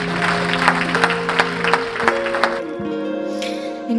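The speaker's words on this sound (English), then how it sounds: "Let's give a round of applause." An audience at a recovery-movement event gives a short round of clapping, with individual claps standing out over sustained tonal music in the background before fading.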